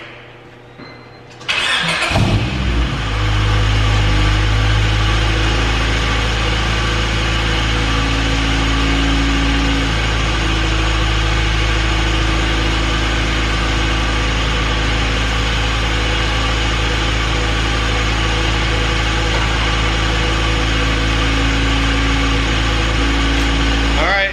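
A Honda Civic hatchback's B18 engine with Type R cams cranks and catches after a short quiet moment, then settles into a steady, loud, rumbling idle that holds for the rest of the clip.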